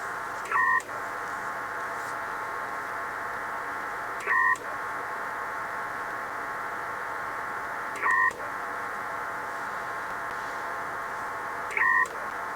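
Pactor 3 radio modem data transmission over an FT1000 radio, a steady hissing band of data tone with short two-tone bursts recurring about every four seconds, alone at moderate level.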